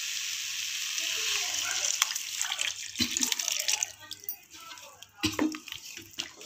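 Leftover dal cooking water pours into a pot of brinjal, drumstick and mango curry, a steady close splashing pour over a sizzle, with brief clinks and pauses midway.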